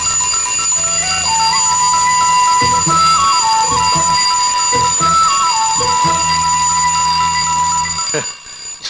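An alarm clock rings loudly and continuously with a bright, warbling electronic tone, over intermittent talk, then cuts off near the end.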